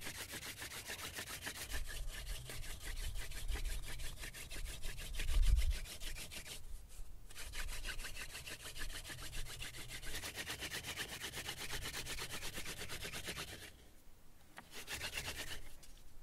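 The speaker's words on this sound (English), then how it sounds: "By performing the hand drill, I can make the hole deeper." Steady, rhythmic rubbing of a wooden hand-drill spindle being spun into a hole in a wooden board for a friction fire, a dry rasping scrape that continues with brief pauses, close and fairly quiet.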